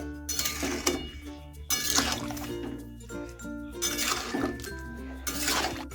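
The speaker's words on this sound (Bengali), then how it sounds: "লঙ্কা গুঁড়ো এবং হলুদ গুঁড়ো দেওয়ার পর খুব ভালোভাবে মিশিয়ে নেব।" Mango pickle is stirred with chili and turmeric powder in a pot, with repeated clinks and scrapes of a utensil against metal over a steady background hum.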